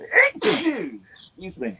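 A single person sneezes close up, followed by a brief spoken apology in a casual indoor setting.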